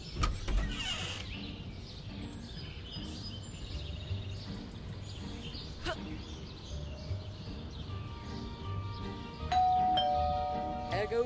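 Doorbell ringing inside the house in Scary Teacher 3D, a bright chiming tone late in the stretch over busy game ambience and clatter.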